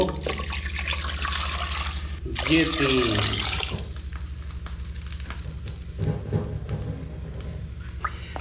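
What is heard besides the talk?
water being poured into a cooking pot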